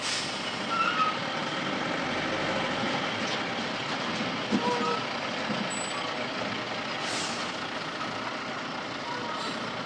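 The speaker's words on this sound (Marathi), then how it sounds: "रात्री ट्रॅफिक जाम होत आहे" Trucks idle and creep in a nighttime traffic jam on a highway bypass, a continuous low engine rumble with a hiss of air brakes and faint beeps, heard at moderate distance.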